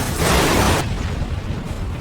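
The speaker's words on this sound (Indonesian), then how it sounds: "menyebabkan kendaraan menjadi tidak stabil hingga akhirnya mengalami kecelakaan dan meledak" A heavy explosive blast from a car crash, with a broad roaring burst, then a lower rumbling tail as it fades away.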